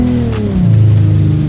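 A VR6 engine in a modded MK3 Jetta in the BeamNG driving game, giving a steady low droning hum whose pitch slides down, then holds at a lower rev level.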